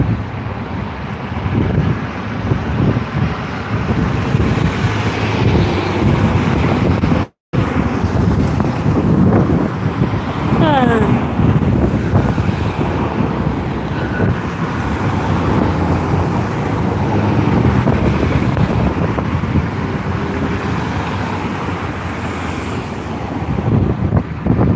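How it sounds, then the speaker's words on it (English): Steady wind buffets the microphone outdoors, a continuous low rumble with gusts and one brief dropout. "it is a little on the windy side at the moment"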